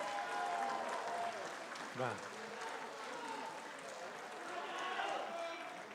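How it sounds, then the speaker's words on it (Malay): Steady applause from a large crowd fills the room at a political gathering in Sabah, a dense wash of clapping that holds throughout, with a voice speaking briefly over it. "Kita berikan tepukan yang gemuruh"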